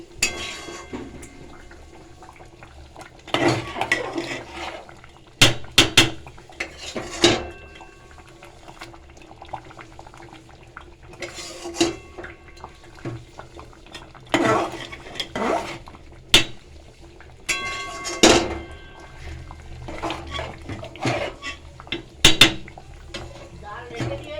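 Khichuri is stirred with spices in a cooking pot: sharp metallic ladle knocks and scrapes against the pot come in irregular bursts over a quiet, faintly bubbling background.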